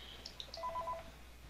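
A telephone gives a short, faint run of beeping electronic tones, a quick sequence of pips lasting about a second over a quiet hum, with no speech.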